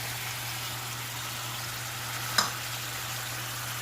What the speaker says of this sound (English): now I'm going to go ahead and add a leftover egg yolk